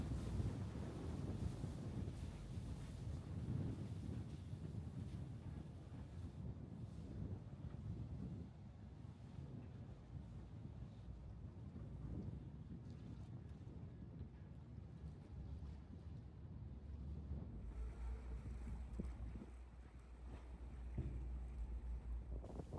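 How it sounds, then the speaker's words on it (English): A small ferry crossing a narrow strait of about 200 meters near an island in Onomichi, its low engine rumble steady throughout amid heavy wind buffeting the microphone and sea noise, with no talking. "In fact, that's the little ferry there now."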